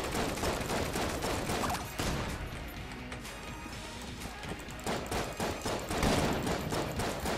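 Rapid gunfire in the dungeon game Enter the Gungeon, dense clattering bursts of small shots with crashes mixed in, steady and fairly loud throughout.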